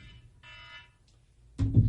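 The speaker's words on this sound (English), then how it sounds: "Oh, my alarm is going off." Medication reminder alarm going off, a faint, short electronic beeping tone that sounds twice at a distance before a louder burst of nearby noise cuts in at the end.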